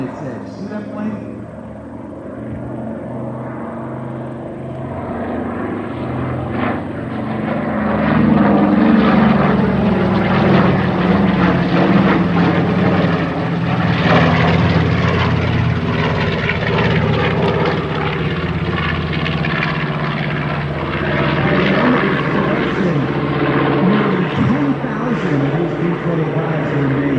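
A B-25 Mitchell propeller bomber at an air show roars overhead, its engines swelling from a distant drone into a loud sustained growl that stays strong to the end.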